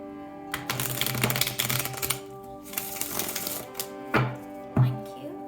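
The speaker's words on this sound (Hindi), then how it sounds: "शफल कर लेते हैं कार्ड्स को ऑप्शन 3 के लिए" Tarot cards are shuffled by hand in a steady, close riffle of papery flicks, ending with a couple of sharper slaps as the deck is squared.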